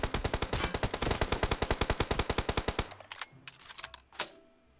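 Rapid automatic gunfire in a battle royale shooter game, a long fast burst of evenly spaced shots followed by a few scattered single shots and a final louder crack, with no talking.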